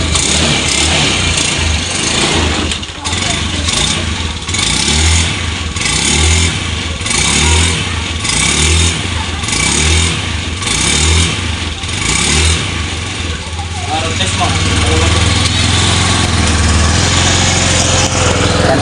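A Honda Scoopy scooter engine runs loud and close, a steady buzzing drone with repeated rises and dips in revs, and no talking over it.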